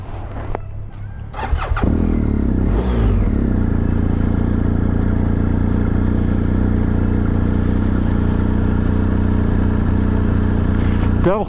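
A BMW R1250 GSA motorcycle arrives nearby, its engine rising in a loud approach after a brief quiet start, then settling into a steady close rumble that holds to the end.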